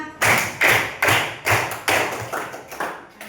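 Children in a classroom play a group clapping game, a crowd of small hands clapping in eight uneven bursts, close and moderately loud with no talking.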